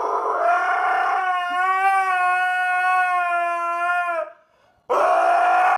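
A dog lets out a long, loud, wavering howl up close, rising and holding its pitch for several seconds, then falls silent briefly before another howl begins.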